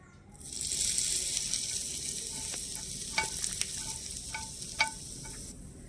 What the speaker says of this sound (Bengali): এখন কিন্তু আমাদের তরকাটা রেডি করা হয়ে গেছে এবারে আমি চাটনির উপরে দিয়ে দেবো